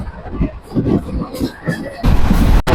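A passenger train running at about 104 to 105 km/h on the Trichy to Rameswaram line, crossing the new Pamban Bridge, heard from on board as a steady low rumble and clatter that swells louder toward the end.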